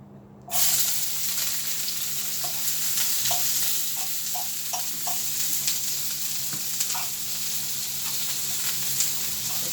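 Shrimp for hibachi hitting a hot oiled pan, bursting into a loud, steady close sizzle with occasional small pops and stirring clicks, continuing without talk.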